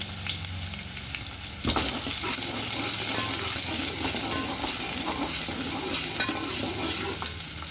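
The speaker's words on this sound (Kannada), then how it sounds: "ಎಣ್ಣೆ ಕಾದ್ಮೇಲೆ ಸ್ವಲ್ಪ ಜೀರಿಗೆ, ಸ್ವಲ್ಪ ಸಾಸಿವೆ, ಈರುಳ್ಳಿ, ಹಸಿರು ಮೆಣಸಿನ್ಕಾಯಿ" Cumin, mustard seeds, onion and green chillies frying in hot oil, a dense continuous sizzle with crackling and stirring scrapes close by throughout.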